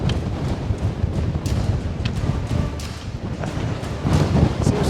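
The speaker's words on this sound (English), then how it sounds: "The wind is crazy!" Strong wind buffets a mountain trail in Teide National Park at over 2,000 meters, a close, rough roaring rush with gusty swells and a louder surge near the end, no voices.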